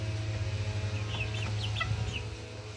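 Young McLean x Miner blue gamefowl chickens, about two months old, cluck softly in a few short chirping bursts over a steady low hum, with no talking.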